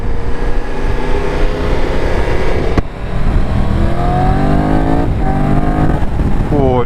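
Triumph Tiger 1200 Rally Pro motorcycle accelerating hard up a motorway slip road, loud engine roar with wind rush, pitch climbing through gears with a brief break at a shift, recorded close from the rider's position.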